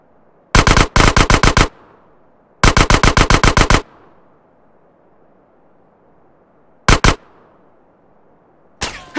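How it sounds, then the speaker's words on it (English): Rapid bursts of sniper rifle gunfire from GTA San Andreas: three loud, sharp volleys of repeated shots, then a brief pair and a final burst, with quieter game ambience between them. "that was a sniper bullet!"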